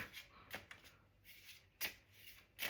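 Oracle cards being shuffled by hand, several short papery riffles and rubs separated by quiet gaps, close and soft.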